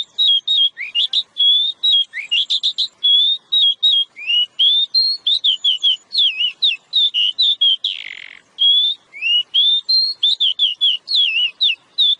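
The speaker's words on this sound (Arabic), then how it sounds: "سادسا، طائر العقعق الأسود." A black magpie calls with a rapid, continuous run of bright whistled chirps and trills, loud and close, with brief pauses and no other sounds.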